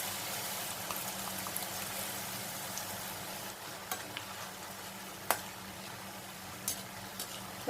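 Boondi batter drops into hot oil for a Palakkad Manoharam sweet snack, a steady close hiss of frying with a few sharp taps and spoon clinks.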